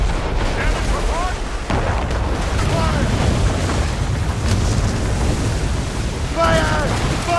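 Naval cannons boom in a pirate-ship battle in Assassin's Creed Rogue, a loud dense roar of repeated blasts and rumble, with shouted crew voices cutting through.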